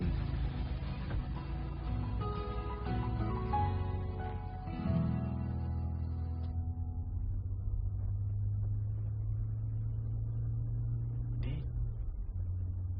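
A car engine rumbles steadily at mid distance as the vehicle pulls away, with background music fading out early on.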